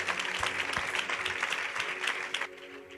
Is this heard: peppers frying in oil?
no